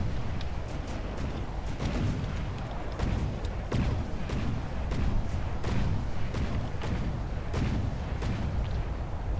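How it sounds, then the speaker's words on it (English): Warship cannon fire in the naval combat game From The Depths, Italian cruisers firing repeated heavy booms and thuds in irregular rapid succession over a dense roaring battle din. "Sheer destruction from some cannon fire."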